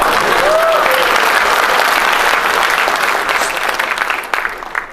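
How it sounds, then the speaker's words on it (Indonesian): Steady audience applause fills the room, dense and loud throughout, easing slightly near the end with a few scattered louder claps and a faint voice trace early on. "Gak usah tepuk tangan"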